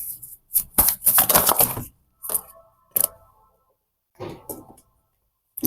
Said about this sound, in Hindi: कार्ड बहुत जल्दी गिर रहे हैं गाइस